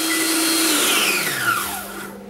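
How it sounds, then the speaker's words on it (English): A food processor pulses a crumbly mixture for a Thanksgiving dish, its motor whirring loudly and steadily with a falling pitch, then winding down and fading near the end. "Okay, I just pulse that up to finish it, get it all nice and crumbly."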